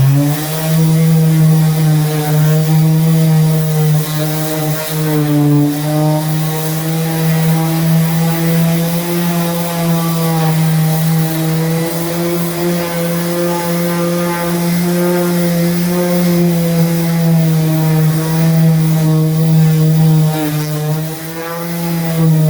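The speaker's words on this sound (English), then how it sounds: "The last sanding will be with a palm sander." A palm sander with 120 grit paper runs steadily and loudly on hardwood, a constant buzzing motor drone with a strong low hum and a gritty rasp over it, with no pauses.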